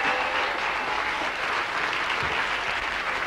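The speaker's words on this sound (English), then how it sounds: "Steve Parrish, give him a round of applause, please." A studio audience at a radio show claps loudly and steadily for a guest, a dense, continuous wash of applause that holds at full strength throughout.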